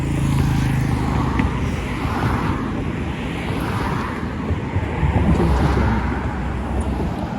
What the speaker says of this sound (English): Cars do go by close here, up and down the bridge.